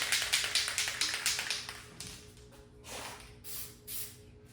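Aerosol spray can hissing out marble-texture paint for a white marble arm and hand cast, a quick series of short tapping bursts followed by a few longer, softer sprays, close up with no talking.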